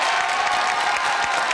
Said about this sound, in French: Applaudissements pour le commissariat de Sedan